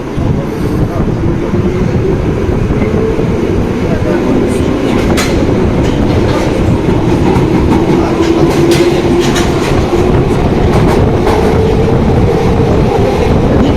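A London Underground Piccadilly line train runs above ground, a loud, continuous rumble from on board with a rhythmic clickety-clack of wheels over rail joints and occasional squeals, steady throughout.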